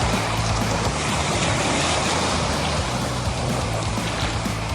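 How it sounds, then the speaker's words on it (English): Ocean waves and surf wash in a dense, continuous broadband roar, loud and close, with steady churning water and no clear pauses between breakers. "these waves are unreal"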